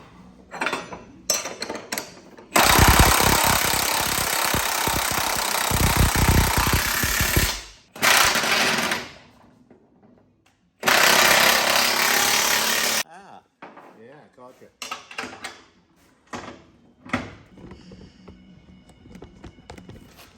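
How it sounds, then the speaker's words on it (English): Wrenching and metal clatter from bolting frame cross-members on a Brockway 361 truck under restoration, with long loud bursts of ratcheting or scraping broken by pauses, clanks and shorter knocks, close by. "one more bolt to tighten"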